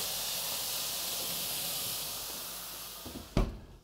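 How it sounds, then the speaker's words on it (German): Water poured into an oven preheated to 230 degrees for baking multigrain baguettes hisses into steam, a steady loud rush that slowly fades before a single dull thump near the end. "Wasser aufgießen."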